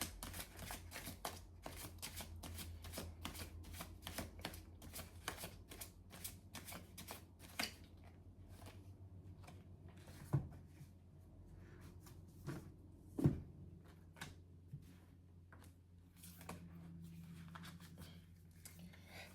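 Oracle cards shuffled by hand in a quiet room during a tarot and oracle reading, a close run of rapid riffling flicks that thins out after several seconds into scattered soft taps and handling sounds.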